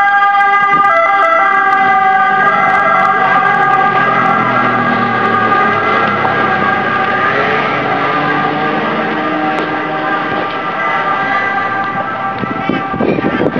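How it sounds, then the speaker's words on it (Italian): An ambulance siren wails loud and steady as it passes by, its tones sliding in pitch as it moves, with faint voices and traffic underneath. "C'è un po' l'ambulanza che tipo va."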